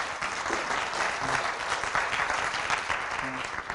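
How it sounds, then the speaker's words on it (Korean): Audience applause at a lecture on earphone and headphone design and evaluation, a continuous burst of many hands clapping at close range with faint voices briefly beneath it. "그 다음에 우리 이규돈 연구원께 좀 박수 부탁드리겠습니다."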